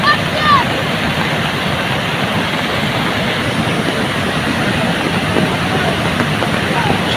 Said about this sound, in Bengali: এখানে অনেক স্রোত, অনেক স্রোত। এখানে বন্যার পানি, পাহাড়ি এলাকার জল এখানে চলে আসছে।